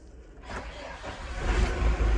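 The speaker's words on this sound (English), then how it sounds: "Oh, Perkins engine. It may smoke like a sod, but it starts." A Perkins diesel engine on an old scrap vehicle cranks and catches, building from a starter whirr into a loud, rough, close running rumble.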